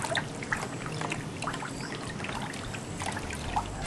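Water is swirled in a container to form a small vortex, giving a continuous sloshing, trickling rush with scattered splashy spikes, close and steady without talk.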